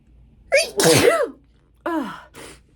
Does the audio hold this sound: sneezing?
yes